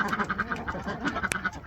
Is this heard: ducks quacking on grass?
yes